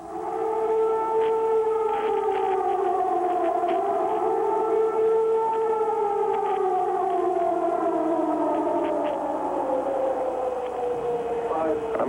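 An air raid siren sounds over Baghdad at night with a long wailing tone that slowly rises and falls, loud and continuous with a faint broadcast hum beneath, and no talking.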